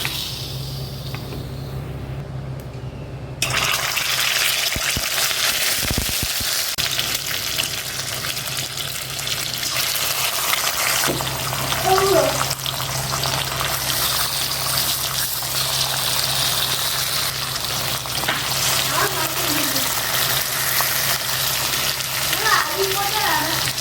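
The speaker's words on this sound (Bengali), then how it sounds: "কড়াইতে আমি তেল দিয়ে দিয়েছি, এর ওপরে আমি মাছগুলো এবার দিয়ে দেব।" Snakehead (shol) fish pieces frying in hot oil in a wok for a Bengali aam shol dish, a steady loud sizzle and crackle that jumps up as the fish goes in, with faint talk in the background.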